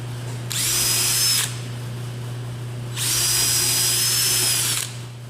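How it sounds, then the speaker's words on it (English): A power drill whines at high speed in two separate bursts, each about a second long, drilling out oversized screw holes in a door threshold, with a steady low hum in between. "I'll drill out the rest of these"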